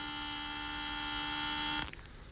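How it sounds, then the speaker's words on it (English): A steady electronic buzzer drones loudly with a harmonic-rich tone, then cuts off abruptly near the end, leaving faint background noise. "somebody turn off that buzzer, will you?"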